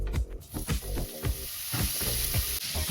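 Bacon frying in a pan gives a continuous sizzling hiss broken by a series of short, irregular crackles and pops up close.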